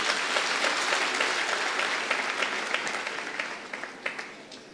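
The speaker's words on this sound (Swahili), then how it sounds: "Tumpigie mzazi makofi." Audience at a memorial service applauding, a dense crowd of hands clapping steadily and close, gradually thinning and fading toward the end.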